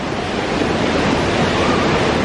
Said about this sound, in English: to cross these waterfalls in the jungle